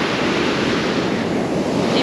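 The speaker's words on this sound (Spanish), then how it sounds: "hay demasiadas olas. Hay muchas, muchas olas." Ocean waves break steadily on a rocky beach at La Guaira, Venezuela, a loud, continuous wash of surf with wind buffeting the microphone and no speech.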